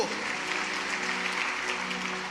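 Steady, dense applause from a church congregation fills the whole stretch, even and sustained without pauses.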